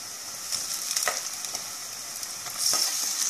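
Onions sauté in a pan for crab curry, a close, bright hiss of frying with a few scrapes of stirring and a brief swell in intensity toward the end.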